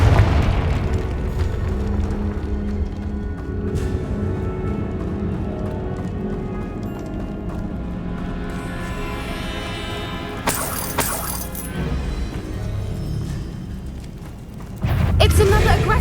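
Confringo fire spell exploding in Hogwarts Legacy combat, a loud, rumbling blast set in dense game effects and music, with a sharp burst near the end.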